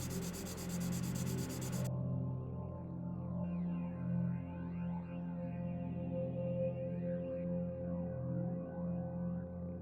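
Steady, continuous rubbing of fine-grit sandpaper against a clear 3D print, a close and even scratchy hiss with no talking.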